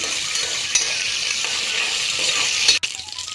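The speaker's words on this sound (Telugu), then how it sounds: "ఇంకా మసాలా దినుసులన్నీ వేస్తున్నాను అనమాట. ఫస్ట్ ఇవైతే దోరగా వేయించుకోవాలి." Whole spices frying in oil and ghee in a pan, a steady bright sizzle with a couple of brief stirring clinks and a sharp knock near the end.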